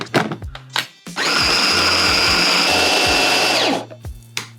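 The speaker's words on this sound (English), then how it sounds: "put them in a food processor to make a paste" After a few clunks of handling, a food processor whirs steadily for a couple of seconds, blending cooked ingredients into a paste. It then spins down, followed by more knocks from the lid and bowl.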